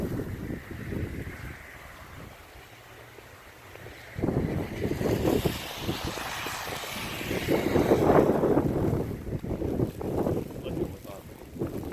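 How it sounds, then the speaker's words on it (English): Gusty wind during a heavy, wet snowstorm in Havre, Montana, buffeting the microphone in rough surges that swell louder midway, with low rumbling bursts throughout. "We got blowing snow. Visibility is reduced."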